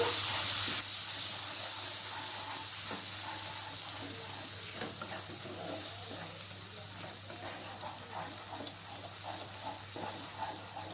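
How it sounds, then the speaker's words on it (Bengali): Onion paste with a little water frying in a pan, a steady soft sizzle and hiss that holds through the whole stretch at moderate level, easing slightly toward the end. "এরপর পেঁয়াজের পেস্টটাকে হালকা করে ভেজে নেব"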